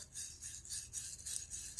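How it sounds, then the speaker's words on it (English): A small wire brush scrubs the carburetor bowl of a Poulan Pro snowblower's 9.5 hp Briggs & Stratton engine, making quick, rhythmic back-and-forth scratching strokes, faint and close, with no talking. "And I'm just gonna scrub it. Try to get all the gunk out."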